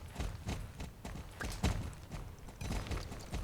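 Rhythmic hoofbeats of a horse in a video game clip-clop steadily at a moderate pace, fairly close, with a faint background hum and no talking.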